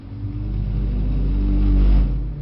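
A Mercedes-AMG C63 S on a track pulls hard under power, its engine drone swelling steadily and loudly for a couple of seconds before easing off, with no talk.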